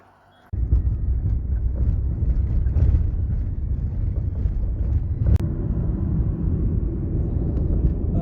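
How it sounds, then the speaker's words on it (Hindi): Steady low rumble of a Toyota Probox car cabin on the move, a constant road and engine drone that starts abruptly and holds evenly, with no talking. "तो हम लोग रवाना हो चुके हैं। यहाँ से हम प्रोबॉक्स गाड़ी में बैठे हैं।"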